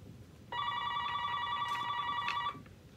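A landline telephone rings once with a steady electronic trill lasting about two seconds, clear and close over a quiet room.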